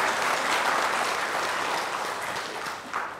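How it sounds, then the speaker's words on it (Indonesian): Dense, steady audience applause at a health talk show, a loud continuous wash of many hands clapping that fades slightly toward the end. "Mantap, tepuk tangan untuk yang meriah untuk kita sekalian."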